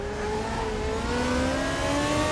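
FR2 race car engine at Zandvoort in RaceRoom Racing Experience, a steady high-pitched whine climbing gradually in pitch as the car accelerates, loud and continuous with no talking.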